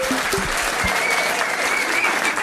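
A pub quiz crowd at a bar gives a short round of applause, steady dense clapping with a few lower thumps and murmurs early on.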